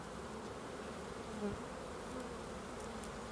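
Honeybees buzz steadily at a hive while its frames are inspected in early February, a faint, even drone that continues without a break.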